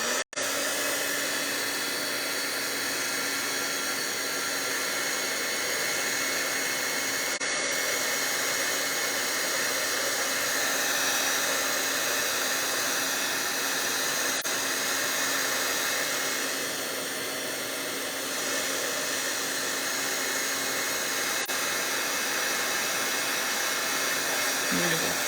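A hair dryer runs continuously to dry wet watercolor paint on a card, with a loud steady whooshing blow that holds nearly unchanged from start to finish and no one speaking over it.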